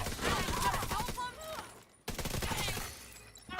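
Hostile turrets firing in a video game, a dense rapid burst of automatic gunfire that pauses briefly, then resumes, loud and close.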